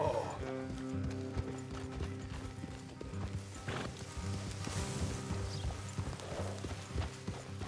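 Horse hooves clop in a steady rhythm on a road in Red Dead Redemption 2, with a neigh and creaking tack over a low, sustained musical score, all fairly quiet.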